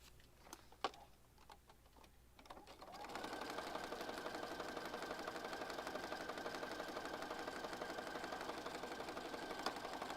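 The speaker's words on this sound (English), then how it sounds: "let's go to the sewing machine." A sewing machine stitches vinyl wallpaper onto an oversized junk journal. After a few seconds of quiet handling clicks, it starts a fast, steady mechanical whir that runs evenly and close until the end.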